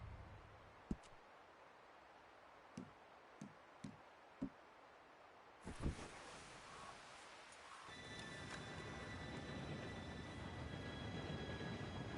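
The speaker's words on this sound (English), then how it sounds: "Train should be here any minute now." A train approaches in the Western video game Red Dead Redemption, starting with a few scattered faint clanks, then swelling into a distant, steady rumble and rattle that grows louder and fuller.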